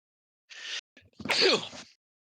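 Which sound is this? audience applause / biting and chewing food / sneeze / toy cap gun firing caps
sneeze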